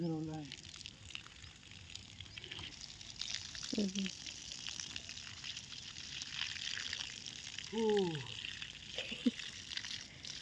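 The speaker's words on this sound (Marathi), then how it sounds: "सकाळ सकाळ झाडं भिजवायचं काम ह्यांचं चालू आहे" Water pours and splashes onto plants in a continuous gush, with a voice speaking now and then over it.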